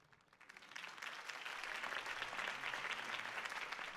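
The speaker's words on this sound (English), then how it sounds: "could have heard that applause" A crowd at a political campaign speech in the Batman: The Telltale Series video game breaks into applause, rising from quiet to a sustained, dense wash of clapping that holds steady to the end.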